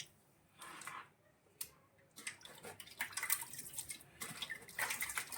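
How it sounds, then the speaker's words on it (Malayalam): Water splashes and runs in short, uneven bursts as meat is rinsed and shaken in a strainer, quiet and close. "നമ്മുടെ ബീഫ് നന്നായിട്ട് കഴുകുവാണ് കഴുകിയിട്ട് നമുക്ക് തോപ്പി എടുക്കാം ഒരു അരിപ്പയ്ക്കകത്ത്"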